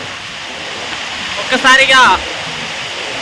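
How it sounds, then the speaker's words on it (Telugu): Cyclone floodwater pours across submerged crop fields in Alluri District, Andhra Pradesh, a steady close rushing hiss, while someone briefly speaks over it midway. "ఈ తుఫాన్ ప్రభావం వల్ల కురిసే వరదలకు ఈ విధంగా వాటర్ అనేది వచ్చి మా పొలాలన్నీ నాశనం చేసింది"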